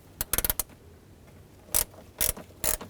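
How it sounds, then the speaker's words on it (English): Ratchet wrench working a 10mm bolt on the hood latch of a 2007-2009 Saturn Aura: a quick burst of close mechanical clicks early on, then three louder separate ratcheting bursts after a quiet gap, with no talking. "I suggest a curved 10mm wrench or ratchet wrench"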